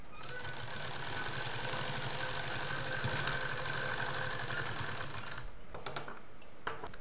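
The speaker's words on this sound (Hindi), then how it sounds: "पहले इस पर हम एक मशीन चारों तरफ चला देंगे।" A sewing machine runs steadily, stitching all the way around the edges of an 8x8 fabric piece for a side bag, its rapid mechanical chatter continuous and close before cutting off near the end.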